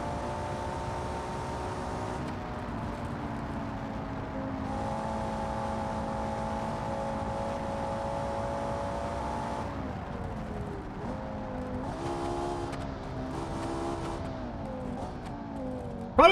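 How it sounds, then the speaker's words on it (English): A V10 supercar engine in BeamNG.drive revs hard and steadily, its harmonic howl rising and dipping through gear changes with faint tire noise, close and loud, with no talking. "Listen to that V10 sing."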